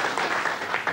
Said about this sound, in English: Applause for her.